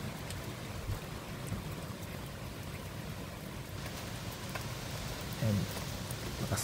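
Steady rain and gusting wind outdoors, a continuous broadband hiss holding even for the whole stretch, with a brief low thump near the end.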